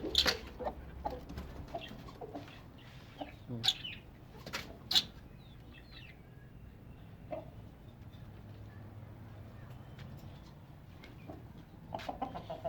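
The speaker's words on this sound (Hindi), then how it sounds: "ये मुर्गी भी उठ गई।" A hen clucks in short, scattered bursts after getting up, with a few sharp wing flaps and chirps nearby, over a low steady background hum.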